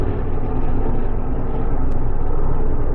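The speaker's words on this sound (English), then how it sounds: "those are the helicopters" Helicopters fly overhead during wildfires in Athens, producing a loud, steady, close droning roar that fills the whole moment without a break.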